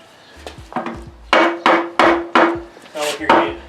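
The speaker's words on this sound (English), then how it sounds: "Oh, where's the hammer? Give me the hammer." A hammer strikes during the job of mating a T56 transmission to an LS1 engine in a 240sx swap, about eight sharp, fairly loud knocks in an irregular sequence with brief ringing tails and faint shuffling between.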